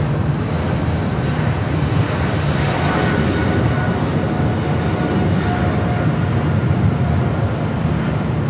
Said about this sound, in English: Speedbird, flight 280, heading back to London, 777-300ER, now rolling down to 25 right.